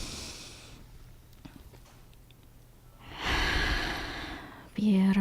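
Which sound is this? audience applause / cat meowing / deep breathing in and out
deep breathing in and out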